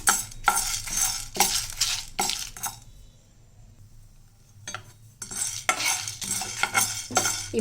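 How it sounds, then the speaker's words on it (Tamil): Lentils and dried chilies are dry-roasted in a pan without oil, a spoon scraping and rattling them in quick, loud rhythmic bursts, close up, then a pause of near-quiet before the brisk scraping and clinking start again; no talking. "எண்ணெய் விடாமல் தான் நம்ம இதை வறுக்கணும்"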